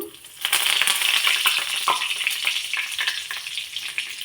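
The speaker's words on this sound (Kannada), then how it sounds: "ಇದಕ್ಕೆ ಎಣ್ಣೆ ಕಾದಿದೆಯಲ್ಲ ಇದಕ್ಕೆ ಜೀರಿಗೆ ಹಾಕ್ಕೊಳ್ಳೋಣ ಆಮೇಲೆ ಕರಿಬೇವು" Cumin seeds and curry leaves hitting hot oil for sprouted-bean palle, bursting into a loud crackling sizzle with sharp spitting pops that settles into steady frying.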